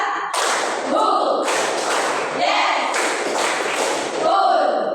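A classroom group claps in counted bursts during a lesson, several loud, dense rounds of many hands separated by short pauses, with a teacher's voice leading over the clapping.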